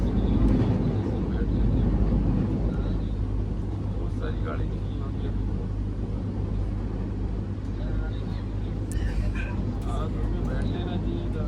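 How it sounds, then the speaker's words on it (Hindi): Amritsar-Saharsa Garib Rath Express crossing at moderate speed past a stationary train, a loud, continuous low rumble and rushing roar that holds steady throughout, with a voice talking over it. "और ये क्रॉस हो रही है अमृतसर सहरसा गरीबत एक्सप्रेस, और ये ठीक ठाक रफ्तार में जो है वो क्रॉस हो रही है।"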